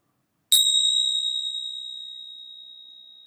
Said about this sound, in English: I've just rung the bell.